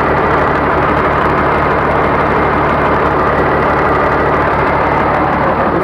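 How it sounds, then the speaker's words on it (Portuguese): A Mercedes-Benz MB1935 truck engine idles with its muffler gone, the exhaust just a bare pipe, giving a loud, steady, deep rumble that runs unbroken throughout with no talking. "Galera, olha o naipe do escapamento."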